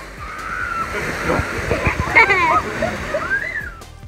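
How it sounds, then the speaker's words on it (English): Water splashes and sloshes nearby at an outdoor water park slide while people shout and chatter over it in a lively scene. "we about to get splashed."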